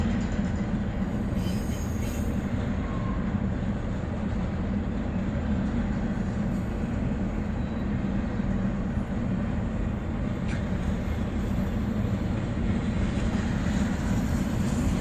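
A train rolls past with a loud, steady rumble and rattle of railroad cars that holds evenly for the whole stretch, with no talking over it.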